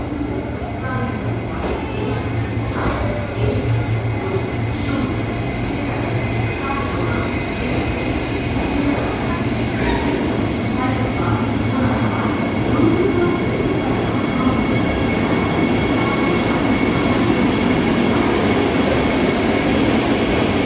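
Delhi to Dehradun Vande Bharat Express running on track at around 110 km/h, giving a steady, loud rolling rumble with rail clatter that holds unbroken for the whole stretch.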